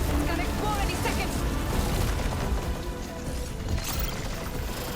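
In the video game Horizon Forbidden West, a plasma explosion erupts as a dense, loud, rumbling blast with grinding mechanical noise, filling the whole stretch before easing slightly, with no talk.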